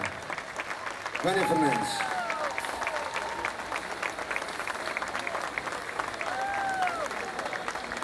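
A concert crowd gives sustained, dense applause for a singer at a 40-years-of-music anniversary show, while a voice announces over the clapping and cheers rise briefly.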